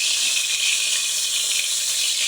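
Rohu fish fry in oil in a pan, turned over to cook the other side, giving a steady, close, even sizzling hiss throughout with no talk.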